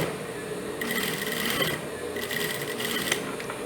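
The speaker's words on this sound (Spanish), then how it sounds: "Vamos a hacerle otra costura para sobrepisar toda esta partecita para que no quede suelto." A sewing machine stitches a child's boxer shorts in short bursts of rapid, buzzing mechanical whirring, close and clear, separated by brief pauses.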